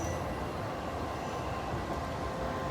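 Inside a crowded commuter train in Japan, a steady loud rumble of wheels on rails and carriage noise runs throughout, with no talk.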